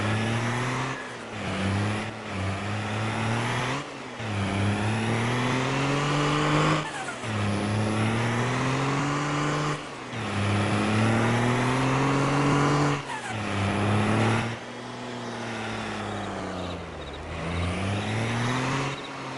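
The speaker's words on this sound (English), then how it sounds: "Well, I'm going to have to bring" A truck engine in Farming Simulator 22 revs up and settles in repeated cycles, its strong droning tone rising with each acceleration, with short gaps between pulls and no talking.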